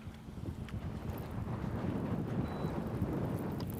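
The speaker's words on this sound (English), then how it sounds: "This place is crazy windy." Strong wind blows across a lake, buffeting the microphone in a continuous low rumble with gusty surges, loud and close, no speech.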